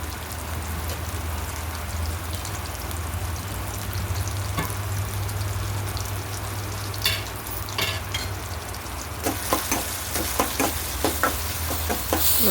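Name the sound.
half a tomato frying in oil in a pan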